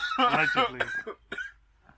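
Harsh, rough coughing bursts close to the microphone, a cluster of hacks followed by a couple of weaker ones that trail off.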